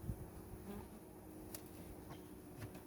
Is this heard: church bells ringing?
no